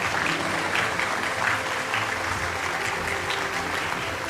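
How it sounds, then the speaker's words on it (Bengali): Sustained audience applause fills a hall at a Bengali film award show, dense and steady throughout with no talk over it. "একটা জোরে হাততালি।"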